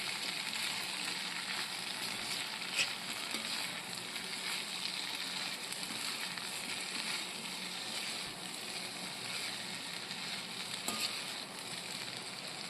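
Sliced potato stir-fry (Kerala-style potato mezhukkupuratti) frying in a pan, a steady, dense sizzle running unbroken with only faint scraping from stirring.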